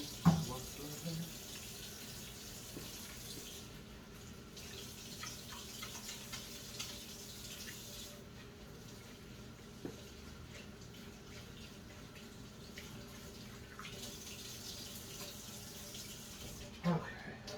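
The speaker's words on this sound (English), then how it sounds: "let me wash my hands again" A kitchen tap runs steadily as hands are washed beneath it, a soft continuous stream of water with occasional splashes and faint clicks, close but quiet, with no talking.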